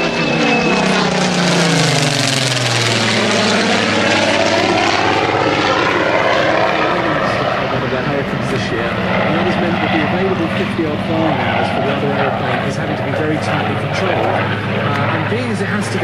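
A vintage WWII Hawker Hurricane propeller fighter roars past at an air show, its loud engine drone sweeping with a clear Doppler drop as it passes close, then fading under steady crowd and commentary chatter.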